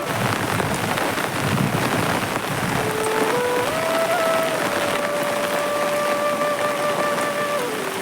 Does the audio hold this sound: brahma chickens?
no